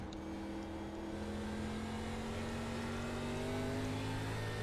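An ARCA Menards Series race car engine drones on a short track in the iRacing video game, a loud sustained tone that rises steadily as the car accelerates out of a turn, with no talk.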